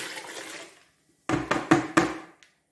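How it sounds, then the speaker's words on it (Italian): Lemons and their soaking water tipped into a pot for lemon jam: a short rushing pour fades out, then four quick sloshing splashes and thuds, close and loud, with no talking. "Ora prendete una pentola e rovesciate il tutto dentro la pentola,"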